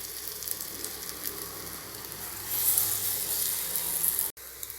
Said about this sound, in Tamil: இந்த மாதிரி ஒரு பணியாரம் பேனில் கொஞ்சமாக எண்ணெய் விட்டு ஹீட் பண்ணி வச்சுருக்கேன்.